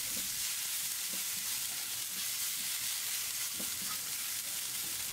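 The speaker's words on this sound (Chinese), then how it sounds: "油热以后把泡过的辣椒丝倒进去翻炒" Soaked, drained chili strips stir-fry in hot oil in a wok, a steady close sizzle with occasional scraping and stirring knocks throughout, no voices.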